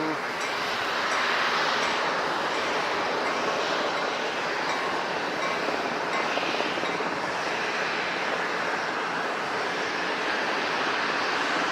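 An Amtrak train rumbles past near San Diego International Airport, a loud, steady broadband roar with a faint ringing bell pattern, sustained throughout with no pauses.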